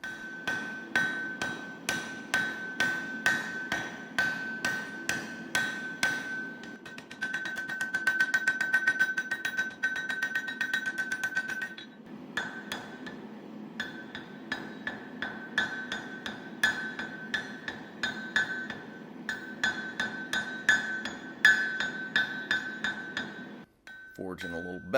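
Rhythmic hammer blows strike hot steel over and over with a bright ringing tone, forging the bevel of a woodworking chisel, in steady bursts with a couple of brief pauses.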